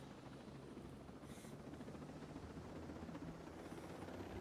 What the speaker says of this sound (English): Especially the helicopter flying.